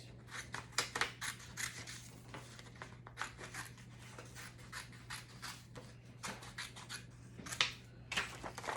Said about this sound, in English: I'm just gonna cut all around the edges